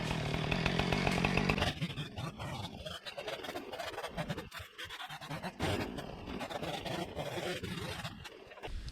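A chainsaw bucks a felled poplar tree outdoors, roaring loudly at first, then dropping to a rougher, uneven idle and sputter with pauses and revving bursts, no talk.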